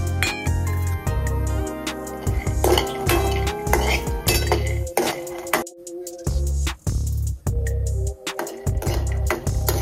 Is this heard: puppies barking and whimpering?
no